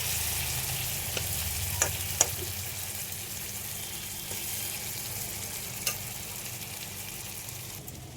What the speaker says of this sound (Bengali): এবার চিংড়ি মাছটা দিয়ে দিলাম